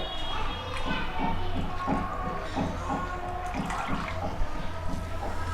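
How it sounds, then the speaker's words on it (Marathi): Water pours and splashes into a pot of simmering kadhi with a gurgling, bubbling sound, close by, while a voice murmurs faintly underneath. "आपण यामध्ये थोडंसं पाणी ॲड करूया"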